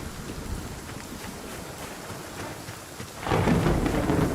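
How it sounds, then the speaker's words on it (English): Heavy rain pours steadily in the video game Nightingale, a dense hiss of drops that swells into a louder, rumbling downpour near the end. "It's raining heavy out here."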